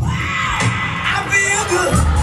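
Crowd at the Whoop Up Days event cheering, whooping and shouting in a steady, lively roar.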